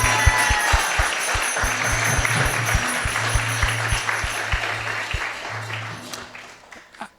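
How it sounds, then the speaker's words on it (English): A temple audience applauds Vaisheshika Prabhu at ISKCON Silicon Valley, steady dense clapping that holds loud for about seven seconds, then fades out near the end, with a low steady hum underneath. "please give us a big round of applause to Vaisheshika Prabhu."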